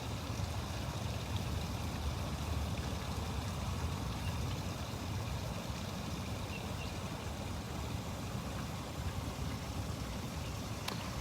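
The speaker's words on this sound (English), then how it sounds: "Go play with your waterfall?" Falling water from a waterfall in a big cat enclosure at a sanctuary makes a steady, broadband rush that stays even throughout, faint and somewhat distant, with no voices over it.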